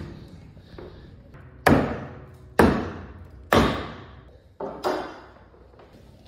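A piano panel lifted and knocked loose during demolition, heard as four or five heavy, resonant wooden thuds and bangs at uneven intervals, each ringing out briefly.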